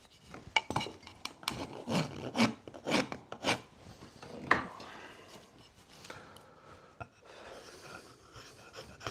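A wooden axe handle being shaped with a rasp: rough, repeated rasping strokes in an irregular rhythm, close and fairly loud, with no talking.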